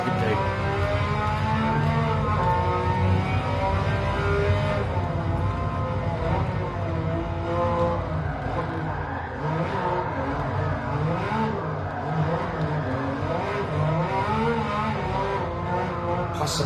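A tuned car's engine revving and accelerating hard in Gran Turismo 7 on the Grand Valley circuit, loud and continuous with rising and falling harmonic pitch across gear changes, no talk over it.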